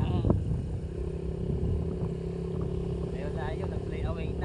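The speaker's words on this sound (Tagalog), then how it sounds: "Maganda ang huni ng motor na Ricky ana" A motorcycle engine idles steadily close by, a low, even drone that runs through the whole stretch, with people talking in Tagalog over it.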